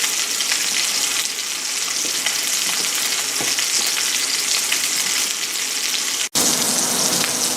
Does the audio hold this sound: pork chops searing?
yes